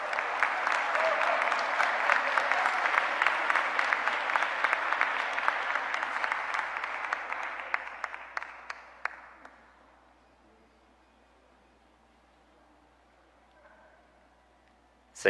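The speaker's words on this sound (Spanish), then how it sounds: "El aplauso más fuerte una vez más." Audience at a Mexico City government press conference gives loud sustained applause for about nine seconds, then the clapping thins to scattered claps and fades to near silence.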